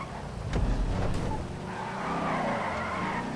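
A race car skids during a traffic race in the video game GTA Online, with a loud engine roar and tire screech swelling mid-clip and holding steady without any talk.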